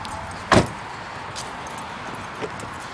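A car trunk lid unlatches with a single sharp clunk near the mic, followed by faint rustles and a small click amid quiet outdoor background.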